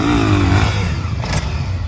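A Honda XRE 300 motorcycle engine revs up, rising pitch as the throttle opens and then settling into a steady mid-range drone, fairly close and loud.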